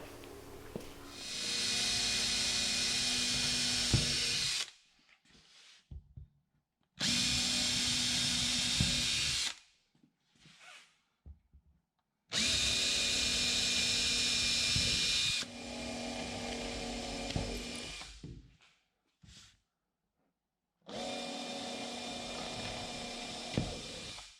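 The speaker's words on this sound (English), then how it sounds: "so we're now cutting the bow piece that's right here" A power tool cuts the wooden bow piece for a Wave Rover 650 boat build in several loud, sustained whining bursts of a few seconds each, separated by short quiet pauses, with no talking.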